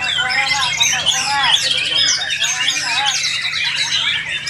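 A white-rumped shama (murai batu) at a songbird contest sings a dense, busy stream of varied chirps and squawky phrases, mimicking small birds, loud and continuous against a background of other birds.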